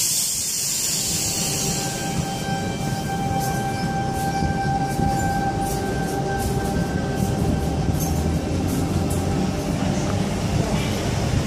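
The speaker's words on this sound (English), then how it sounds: "train's now departing" A Sydney suburban train pulls out of Mortdale station, its steady loud rumble filling the platform while a rising electric motor whine climbs and holds, recorded close from aboard or beside the carriages.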